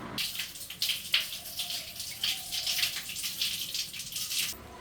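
A muskmelon being washed under a running tap, with water splashing and gushing steadily close by, broken by uneven spatters as the fruit is turned in the stream; no one speaks.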